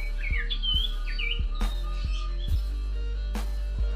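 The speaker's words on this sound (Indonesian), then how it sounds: "Burung sirtu yang saya pelihara ini tetap gacor teman-teman." A caged sirtu bird sings a series of short, bright whistled and chirping phrases, close and clear, over a steady low electrical hum and occasional sharp clicks.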